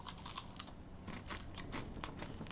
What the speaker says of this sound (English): Nice and crunchy, as you could probably tell.